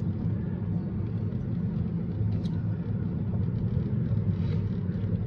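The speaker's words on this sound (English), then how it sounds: "That's a big truck, man." A big truck passes on a village road in Ban Dan Kwian, the pottery village, a continuous deep engine rumble holding steady and fairly close throughout, with no talking.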